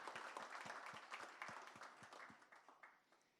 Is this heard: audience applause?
yes